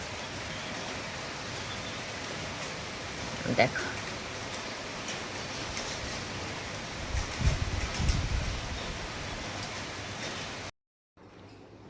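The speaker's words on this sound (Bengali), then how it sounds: "এমন বৃষ্টি পড়ছে বাইরে" Heavy rain falls outside in a dense, constant hiss with scattered patter and drips, moderately loud. A voice speaks briefly over it before it cuts off near the end.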